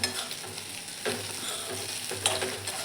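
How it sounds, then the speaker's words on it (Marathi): Bitter gourd curry sizzles steadily in a pan while it is stirred now and then, giving a soft continuous frying hiss with a few brief scraping swells, close and low in level, with no voices. "अजून 1-2 मिनटं तळून घ्यायचे व्यवस्थित"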